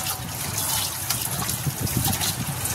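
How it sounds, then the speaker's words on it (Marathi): Flour-coated goat intestine is rinsed under a running kitchen tap, making a continuous, close splash and trickle of water with soft handling sounds. "पीठ लावून वजडी ठेवलेली आता ते आपण नळाखाली स्वच्छ धुवून घ्यायची"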